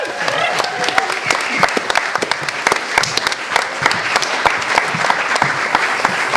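A live audience claps steadily and enthusiastically throughout, a dense wash of close and distant hand claps with some voices mixed in.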